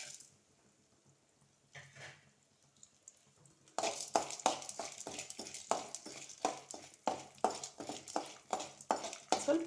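Chana dal and urad dal roasting in a pan, stirred with a spoon in a steady run of scraping, rattling strokes after a quiet start, close and fairly loud, with no talk.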